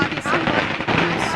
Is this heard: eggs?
no